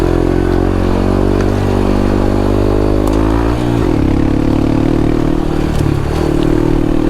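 Honda Trail 125 with a Yoshimura exhaust rides along a dirt trail, its single-cylinder engine droning steadily and loudly, pitch dipping and recovering as throttle shifts, with some rattly clatter.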